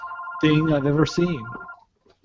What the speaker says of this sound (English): And that's a phone ring, and I don't know what to do about that.